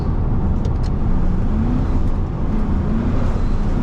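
A 2000 Chevy Silverado 1500 with a 4.8 V8 accelerates, heard from inside as a loud, continuous engine drone blended with road noise, with a faint rising tone and no talking.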